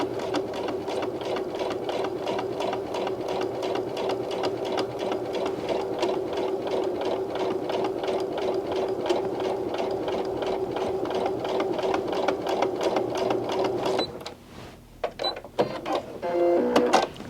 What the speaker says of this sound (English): I'm just going to stitch it up again, starting, and this will give us a nice clean edge.